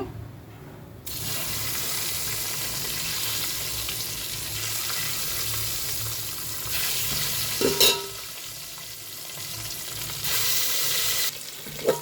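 Eggs frying in oil with chili powder, a steady close broadband sizzle running throughout with a brief clatter near the middle and no talking.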